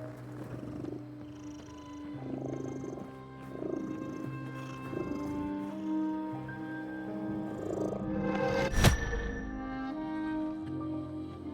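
Soft, steady cat purring in the video game The Midnight Walk, low and continuous under a dim ambient music bed, with a brief louder burst of sound near the end.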